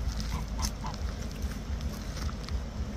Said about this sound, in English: Here's some geese eating apples over here.